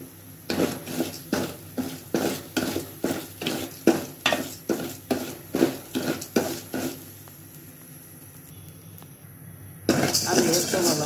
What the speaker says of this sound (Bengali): অনে আমি চাইল দিতে দিই